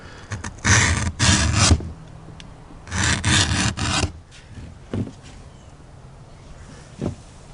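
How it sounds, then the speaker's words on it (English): Adjustable gouge shaving and thinning leather for a knife sheath: close, dry rasping strokes in two long bursts, followed by a few shorter scrapes and quiet gaps, no voices. "take an adjustable gouge and thin the leather here so that it folds over a little bit easier"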